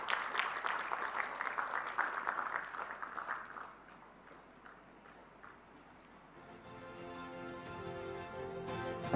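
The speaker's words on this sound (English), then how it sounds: "Let's put our hands together and give a round of applause." A graduation ceremony crowd claps in sustained applause for several seconds, a dense patter of many hands in a large hall, fading out as a ringing, musical tone takes over.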